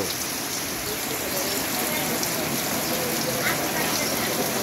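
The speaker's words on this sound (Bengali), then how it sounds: "ঝমঝম বৃষ্টি, শব্দ শুনতেই ভালো লাগে।" Heavy morning rain pours onto a rooftop in Natore, a dense, even roar of close drumming water that holds steady for the whole stretch without a break.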